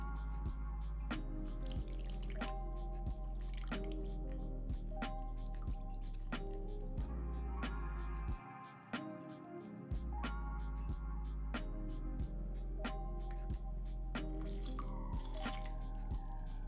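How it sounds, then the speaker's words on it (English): Lemon squeezer pressing juice from a single lemon into a bowl for a salmon salad dressing: soft squishing with a run of wet drips, fairly close and quiet, under steady faint background music. "And juice from 1 lemon. I'm using my lemon squeezer"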